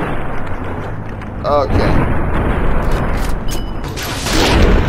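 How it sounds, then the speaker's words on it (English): Gunfire in Fallout: New Vegas, a few loud booming shots in quick succession, close and punchy, with someone talking over the game sounds. "I'm gonna do a couple of these shots here."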